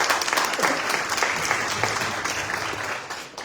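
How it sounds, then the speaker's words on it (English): Round of applause from a club meeting audience, a dense, even burst of clapping filling the room and tapering off slightly at the end. "we can give a round of applause to everyone who's contributing"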